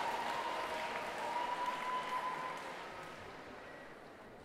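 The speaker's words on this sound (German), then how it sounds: "Und das ist der Applaus für unsere Startnummer 1." Audience applause at a cosplay contest on a main stage, a crowd clapping steadily before fading off at the end, with a thin tone audible beneath it.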